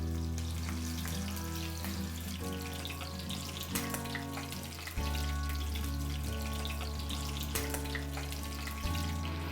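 Mutton ribs for Kashmiri tabak maaz fry in a thick layer of hot ghee in a pan, a constant bubbling hiss with sputtering pops beneath prominent background music.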